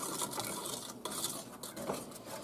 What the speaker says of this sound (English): with this you really do need to kind of keep stirring it, so because of the sugar in it, that it doesn't burn on the bottom